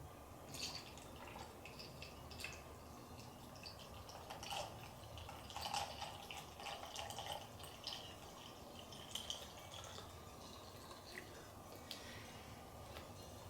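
Water trickles and drips into a MIPOW VASO essential oil diffuser as it is filled, with soft splashing and faint clicks, quiet and close throughout, with no talk.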